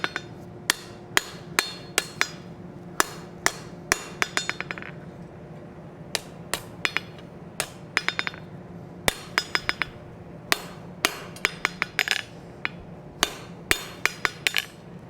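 Hammer strikes on cold steel against an anvil while forging a decorative rose, landing as sharp ringing blows in quick clusters with short pauses, close and clear with steady low background hum and no talking.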